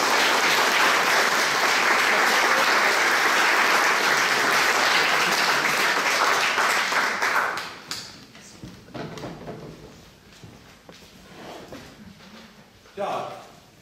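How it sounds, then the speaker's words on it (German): An audience at a Europa-Union New Year's reception in Leverkusen claps loudly for the board, a dense sustained applause that fades out after several seconds into scattered claps and room noise. "wenn wir dem Vorstand mit einem kräftigen Applaus für die Arbeit im vergangenen Jahr danken"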